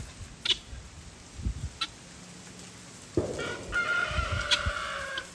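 Chickens cluck in short, scattered bursts around a farm animal sanctuary yard, then a rooster gives a loud, drawn-out crow close by.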